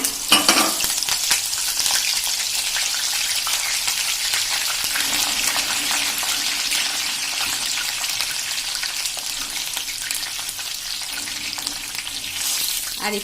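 Black raisins and chili pieces sizzle and fry steadily in hot oil for sweet potato chevdo, a continuous loud crackling hiss filling the whole stretch with no talking.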